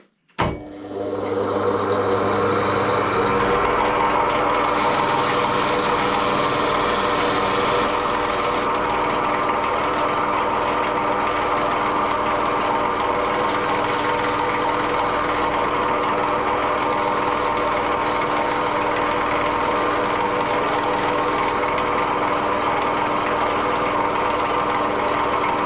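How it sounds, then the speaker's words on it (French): A power polishing tool with 1200-grit abrasive works on a metal object, a steady loud high whine that starts abruptly and holds for about twenty-five seconds, with the tone shifting slightly as pressure changes and no talk. "Maintenant, on passe sur le grain de 1200 et vous allez voir, ça va très vite briller là."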